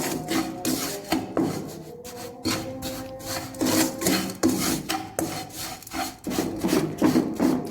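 Sugar gets stirred into roasted gram flour with cardamom powder for besan laddu, a rhythmic run of scraping, rubbing strokes in a pan, fairly close and repeated without a break.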